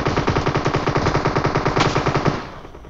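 Rapid automatic gunfire in the shooter game PUBG Mobile, a loud steady burst of evenly spaced shots lasting over two seconds before cutting off.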